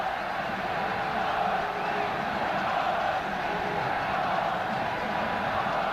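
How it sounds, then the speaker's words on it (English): A huge Czech football crowd roars inside Sparta Stadium in Prague during a 1989 World Cup qualifier against Switzerland, a dense continuous wall of cheering and whoops heard from the stands. "the Czech crowd, this huge crowd in the Sparta Stadium"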